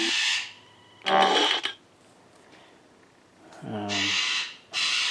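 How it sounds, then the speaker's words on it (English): Loud, bright bird squawks in several bursts separated by quiet gaps, harsh and raspy, close by, with a shorter call in the middle. "that bird again"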